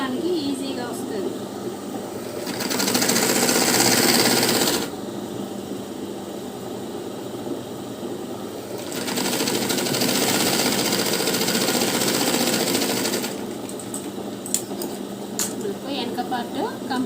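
A sewing machine stitches a lining blouse in steady mechanical runs, with two louder bursts of running separated by quieter stretches, and a voice speaks over the machine.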